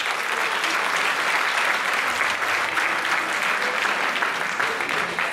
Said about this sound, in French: Donc on les applaudit très fort et on les remercie.